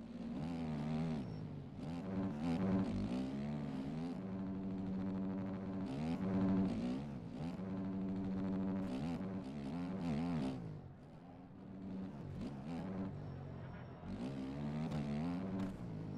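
A motocross bike engine in the MX Bikes racing game at Glen Helen drones loudly with steady harmonic tones, dropping in pitch and rising again in repeated swells as the rider shifts down and brakes on the engine.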